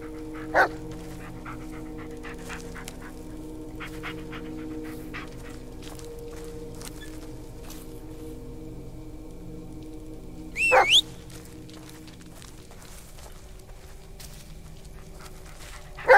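A dog in the Blair Witch video game gives short barks, whimpers and pants, with brief sharp bursts near the start, around the eleven-second mark and at the very end, over a quiet ambient background.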